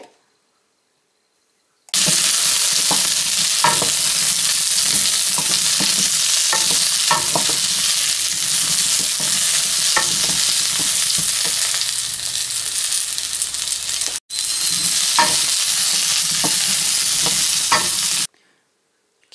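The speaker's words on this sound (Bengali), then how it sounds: "টোপা কুলগুলো দিয়ে পাঁচ থেকে ছ মিনিট খুব ভালো করে ভাজা ভাজা করে নিতে হবে" Indian jujubes (sour berries) fry in mustard oil for a sweet-sour chutney, giving a loud, continuous sizzle with frequent stirring clatter and a short break near the end.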